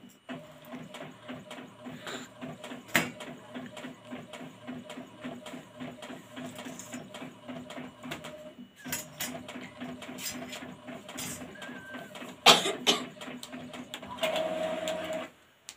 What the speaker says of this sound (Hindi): अच्छे से प्रिंट होकर निकला क्लियर